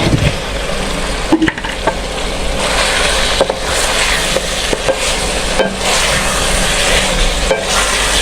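Potatoes go into a pan of chicken curry frying at high heat, a loud steady sizzle with stirring scrapes and a few clatters of pieces landing, close up and without speech.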